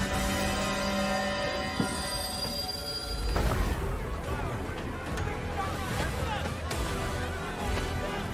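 Train from the video game Last Train Home, with screeching steel wheels and a rumbling railcar rolling along under a voice speaking over it, a sharp clank partway through, fairly loud and continuous.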